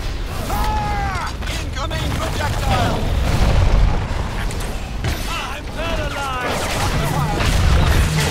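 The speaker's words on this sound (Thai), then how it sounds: "โดนระเบิดดักไว้หน้าประตูครับ" Explosions and gunfire from the video game Evolve boom and crackle loudly, including a trap bomb going off at a door, with excited voices talking over the chaotic battle noise.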